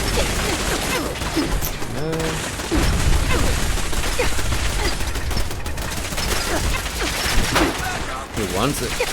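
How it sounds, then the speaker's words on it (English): Dense bursts of gunfire from many weapons in a Fallout 4 firefight, a continuous loud barrage with rapid overlapping shots and mechanical clatter, while a voice speaks over it. "Oh my god, there's so many shots."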